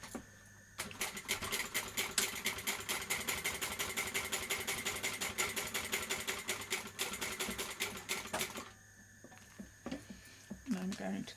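Sewing machine running steadily for several seconds while stitching a box pattern onto a backpack, with a rapid, even mechanical clatter that pauses briefly near the end before restarting; no speech over it.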